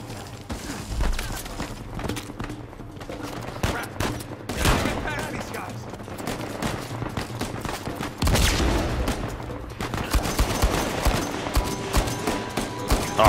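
Gunfire in the video game Uncharted 4 crackles through a busy firefight, with scattered shots and sharper bursts under a steady din of game noise, moderately loud throughout.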